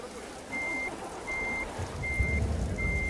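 In a bus driving simulator game, a bus sounds steady reversing beeps, four evenly spaced tones over a low engine rumble that swells near the end.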